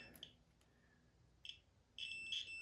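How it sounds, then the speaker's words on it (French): Faint, high electronic beeps while setting the timing on a BMW M62B35 Vanos engine: a couple of short chirps, then a longer, steady beeping tone toward the end, in a quiet room. "Et là, il va biper."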